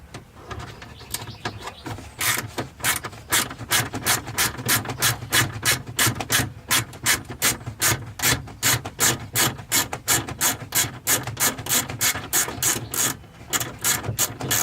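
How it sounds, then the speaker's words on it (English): A ratchet wrench clicks rapidly and rhythmically in close, loud bursts while a plastic piece is removed from a Toyota HDJ81, with a short pause near the end and no talk. "So we'll take this plastic piece off here"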